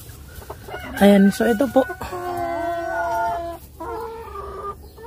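A Rhode Island Red hen clucks loudly and repeatedly at close range in a series of quick, rhythmic calls, with a person speaking briefly over the clucking.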